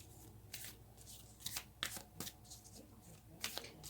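Tarot cards shuffled by hand, soft papery riffling in several quick bursts at an even pace, faint and close with no voices.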